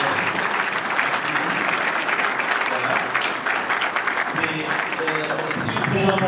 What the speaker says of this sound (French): On commence par applaudir les intervenants.